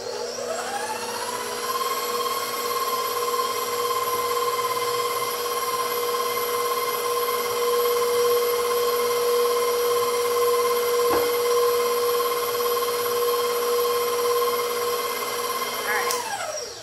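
A food processor whirs steadily as it mixes ingredients, a loud continuous motor whine that runs for several seconds before cutting off at the end.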